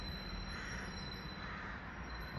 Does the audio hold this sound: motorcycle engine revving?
no